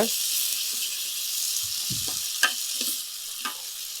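Cooked urad dal stirred in ghee in a pan, giving a steady hissing sizzle with a few soft scrapes and taps of the spoon, close by and fairly even throughout with no talking.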